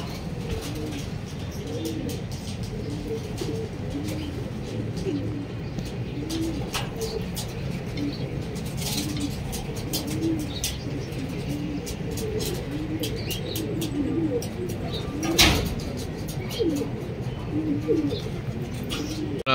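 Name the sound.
racing pigeons cooing at the loft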